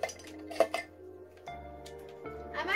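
Glass blocks are placed in Minecraft, giving soft, scattered clinks and glassy taps with quiet gaps between them over a faint background hum.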